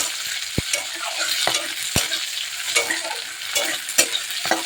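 Chopped onions frying in oil with whole green chillies, a close, steady sizzle punctuated by sharp spatula knocks against the pan at irregular intervals.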